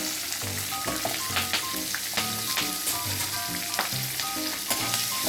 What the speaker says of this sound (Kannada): ಒಗ್ಗರಣೆ ಇದ್ದೀನಿ ಹಾಕಿ ಜೀರಿಗೆ ಎಣ್ಣೆ ಶೇಂಗಾ ಕರಿಬೇವು ಈರುಳ್ಳಿ